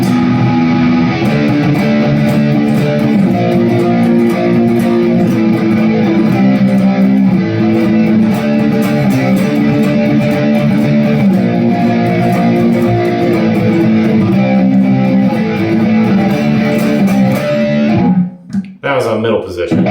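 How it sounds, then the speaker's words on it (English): A 2009 Epiphone Les Paul Standard in honey burst plays through distortion, a loud sustained crunchy chordal tone ringing for most of the stretch before cutting off abruptly near the end. "Let's hit a little bit of distortion on here."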